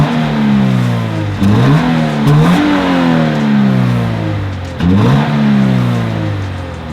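A Toyota GT86 boxer engine on its stock exhaust revs repeatedly, each blip climbing and falling back, loud and close with a buzzy tone, three or four rises over a steady idle, no voices.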